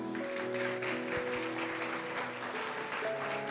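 A church congregation applauds steadily, a dense even wash of clapping held at moderate distance, with sustained tones from instruments playing underneath.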